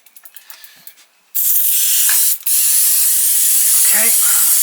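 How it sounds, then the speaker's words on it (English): An aerosol cleaner is sprayed onto a bicycle chain, producing a loud, close hissing burst that runs a few seconds, briefly stops, then resumes, after some faint handling clicks. "Spray our chain"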